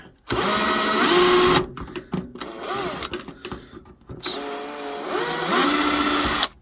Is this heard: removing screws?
yes